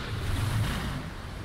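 A waterspout roars over open water in an animated show, a steady, loud rush of wind-driven spray and churning waves with a low rumble underneath, filling the whole moment without any voices.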